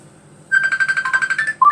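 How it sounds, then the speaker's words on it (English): A phone ringtone plays a quick run of bright electronic beeps in a rapid melodic pattern, loud and close, ending with a short final tone. "No, keep ringing, Rob."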